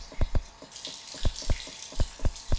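Medium cave water ambience from the Total Miner game, a series of distinct drips and plops at an uneven rhythm, close and fairly loud, over a soft hiss of running water.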